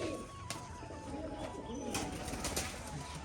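Pigeons coo softly in low, throaty rolls within a loft, several birds calling at moderate distance amid faint background clatter and a brief murmur of speech.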